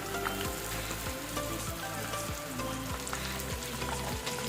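Gunda sizzles in hot oil with cumin, giving a dense, steady frying crackle that stays loud and close for the whole stretch, with a low rhythmic thumping underneath.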